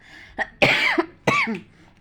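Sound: coughing

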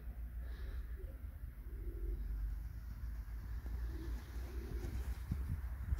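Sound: pigeons cooing

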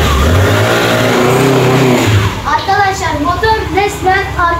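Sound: car engine revving on a test drive

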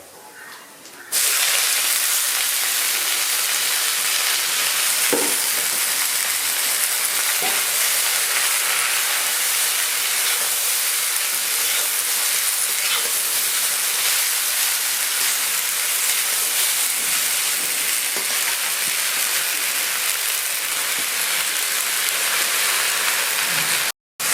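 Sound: spinach sizzling in wok

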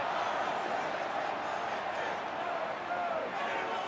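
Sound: football stadium crowd at an AFL game

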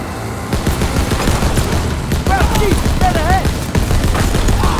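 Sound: mounted machine gun fire in video game Call of Duty WWII

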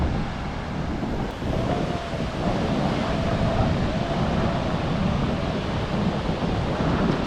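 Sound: ocean waves on the beach at Weligama, Sri Lanka

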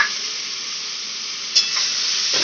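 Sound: prawns frying and stirred in pan

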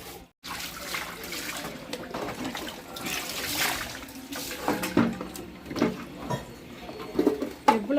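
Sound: water rinsing a stove while washing it

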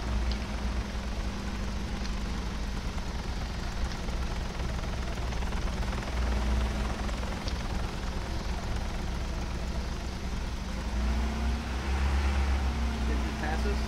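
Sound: Little Bird transport helicopter flying over, video game Arma 3

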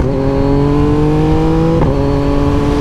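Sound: 2024 Yamaha MT-09 motorcycle with full Akrapovic race exhaust

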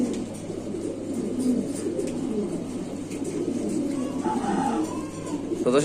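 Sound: fancy pigeons cooing

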